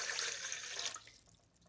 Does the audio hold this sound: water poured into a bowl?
yes